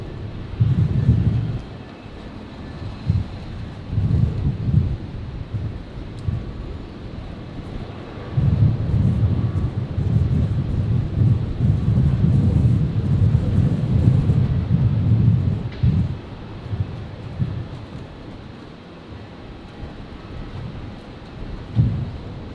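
Gusty wind at Brisbane airport buffeting the microphone in heavy low rumbling bursts that surge and ease over about twenty seconds, loud and close, with no speech.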